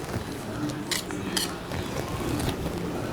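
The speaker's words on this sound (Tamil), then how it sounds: "இதெல்லாம் நல்லா கலந்துட்டு" A spoon stirs sathu maavu flour with roasted coconut, raisins and cashews in a bowl, giving soft scraping and a few sharp metallic clinks against the rim over a steady low background.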